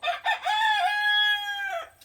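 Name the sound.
backyard chickens clucking and rooster crowing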